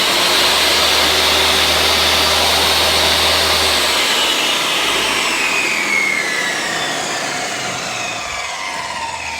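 Sliding saw with angle bevel adjustment, switched on and running without cutting: a loud, steady, high-pitched motor whine alone, with a low hum fading after about four seconds as the blade spins on.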